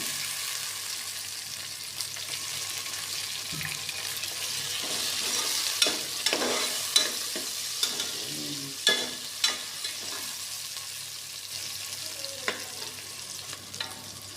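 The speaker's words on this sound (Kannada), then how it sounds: "ಅದಾದಮೇಲೆ ನೋಡಿ, ಬದನೆಕಾಯಿ ಹಾಕ್ತಾಯಿದ್ದೀನಿ." Eggplant pieces frying in hot oil for vangi bath, a steady sizzle with clattering stirring knocks scattered through the middle stretch, close and fairly even throughout.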